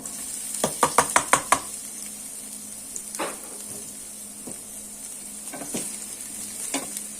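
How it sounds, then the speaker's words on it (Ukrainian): Diced vegetables, including bell pepper, sizzle steadily in a frying pan, opening with a quick run of sharp taps before settling into a quiet, continuous crackle with occasional stirring knocks. "Жаримо наші овочі тільки наполовину, щоб вони залишилися всередині сирі."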